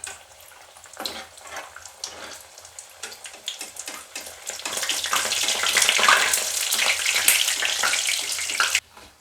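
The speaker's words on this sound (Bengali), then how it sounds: "এখন আমি একটু ভাজবো, তাহলে চলুন শুরু করি ভাজা" Nimki singaras deep-frying in white oil in a wok, starting with scattered pops that swell into a loud, continuous bubbling sizzle heard close up before cutting off abruptly near the end.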